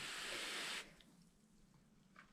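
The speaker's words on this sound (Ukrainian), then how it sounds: "притримуючи рослину за листочок, під напором зволожую її" Pressurized water spraying onto peat around a potted pelargonium cutting: a loud, steady hiss of water for under a second that cuts off abruptly, leaving faint drips and quiet room tone.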